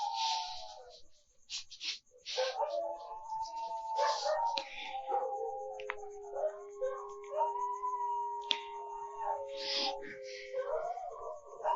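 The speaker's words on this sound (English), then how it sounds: "I'm sorry for the dogs shouting in here." Several dogs howl and bark at length indoors, long wavering howls layered with yips and whimpers, loud and close, while a person speaks intermittently underneath.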